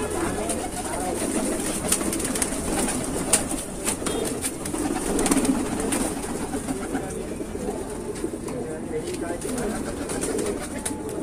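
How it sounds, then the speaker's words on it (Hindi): Pigeons cooing in a low, continuous murmur at a pigeon loft in Bareilly, Uttar Pradesh, with occasional wing flaps and someone talking over them. "बहुत ही बड़े साइज का कबूतर है"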